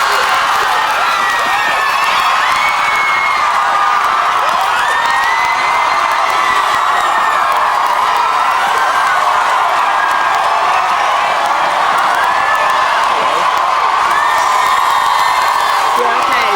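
A massive crowd of fans at a live Big Brother UK eviction in 2002, roaring, whooping and screaming continuously and loudly for the whole stretch.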